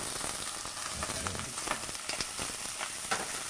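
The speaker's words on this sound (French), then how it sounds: "on fait rissoler un petit peu les joues, juste saisir" Farm-raised Label Rouge pork cheeks from the South West browning in a thin film of oil, giving a steady, close, crackling sizzle with small pops and stirring noises throughout and no talking.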